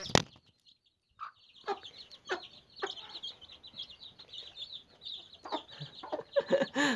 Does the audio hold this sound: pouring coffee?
no